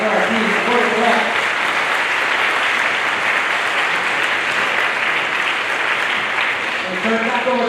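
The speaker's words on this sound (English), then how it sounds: "Can we have one more huge round of applause for our team?" An audience at a school parent night gives a long, loud, steady round of applause for the school team, with voices audible over it at the start and end.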